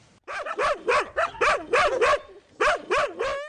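Dogs at an animal shelter bark and yip in a rapid series of close, loud bursts, several in quick succession, with a short pause before another cluster of barks.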